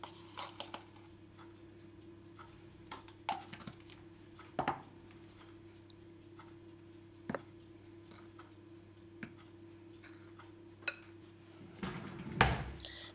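A utensil mixing flour, baking powder and salt for an orange cake in a bowl, giving irregular light clinks and taps over a quiet steady hum, ending in a louder scrape.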